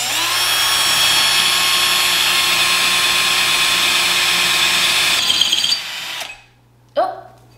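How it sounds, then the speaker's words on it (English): A small power drill bores a hole into the middle of a plant pot with a loud, steady whine for about five seconds, then stops; a short voice follows afterward. "all I'm gonna do is just drill a little hole into the middle of each pot"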